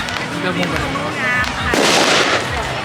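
Several sharp cracking firecracker bangs go off close by at a Loy Krathong Yi Peng festival in Thailand, with a dense burst of crackling in the middle, and a voice talks over parts of it.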